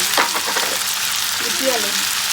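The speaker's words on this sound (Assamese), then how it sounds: "এইফালে মায়ে ভাজি আছে সৰু আলু" Small potatoes frying in oil in a home kitchen pan, a close, steady hiss of sizzling with a couple of stirring scrapes, no talk.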